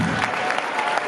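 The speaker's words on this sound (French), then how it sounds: "Les applaudissements c'est en ordre" Audience applause at a one-man comedy show, a dense steady wash of clapping lasting about a second with no pauses, fairly loud and close.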